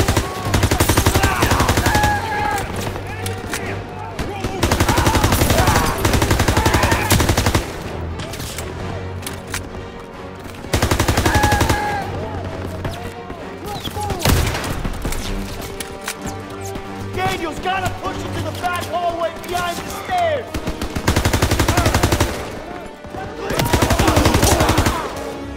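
Machine gun fire on a staircase in the Call of Duty WWII campaign: loud, sustained automatic bursts that stop and restart several times, with shouted voices and battle noise between them.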